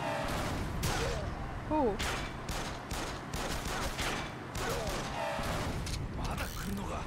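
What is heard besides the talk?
gunshots in the video game Yakuza Kiwami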